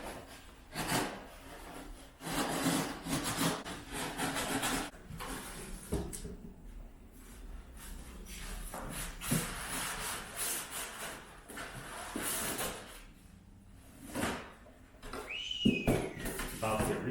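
Keurig 3500 and Keurig 150 coffee makers are unboxed from cardboard boxes, with close scraping, rubbing and tearing of cardboard, rustling and occasional thumps, faint and uneven, with some voice mixed in.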